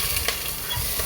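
Garlic sautés in a pan for pork-lung kilayin, a brief close burst of bright, steady sizzling with faint stirring scrapes and no voices.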